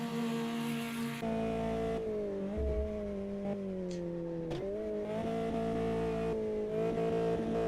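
A Formula Inter race car in Automobilista 2 on the Guaporé circuit, with a loud, continuous engine whine that dips briefly on a quick downshift to second, then climbs again through the gears.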